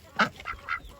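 Female duck giving a few short, nasal calls in quick succession, close by and fairly loud, with a brief pause between each.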